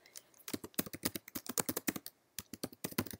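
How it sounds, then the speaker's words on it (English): Typing on a computer keyboard while setting up labels in iPhone programming work, a quick irregular run of close, crisp key clicks with one brief pause near the end. "I'm just going to type in there"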